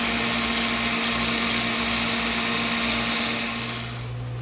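A bench grinder spark-tests the steel of a putty knife, making a loud, steady high-pitched whine with a constant droning hum that stays even for several seconds and then drops off near the end.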